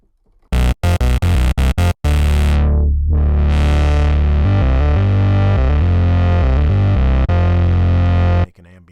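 A Moog Model D synthesizer plays a loud, sustained distorted bass tone after a few sharp staccato hits, with a sweeping filter giving a murky, underwater-like wobble before the sound cuts off.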